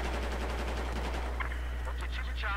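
Rapid bursts of gunfire crackle in quick succession over a constant low hum in Battlefield 4 hardcore mode, with a voice speaking briefly near the end.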